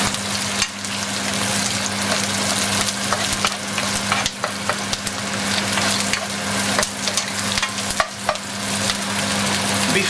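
Lemongrass and galangal root fry loudly in a hot pan, making a dense continuous sizzle with crackles and occasional stirring clatter close by, with a steady low hum underneath and no talking.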